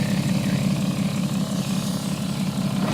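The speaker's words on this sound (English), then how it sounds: "Let's give it a few revs." A BMW 730Ld diesel engine runs close by with a steady, rough low drone and no clear rise in pitch, holding an even level for about three seconds with no talking.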